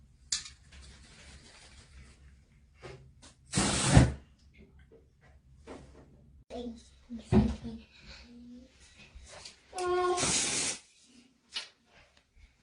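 Aerosol dry shampoo can sprayed in two or three short, loud hissing bursts between scattered clicks and rustling handling sounds, close up.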